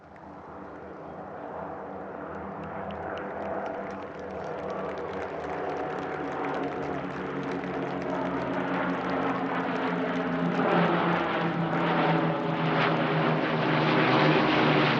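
Avro Lancaster bomber flying at an air show, its propeller engines a steady, droning roar that swells gradually louder as the aircraft approaches, heard alone without talk.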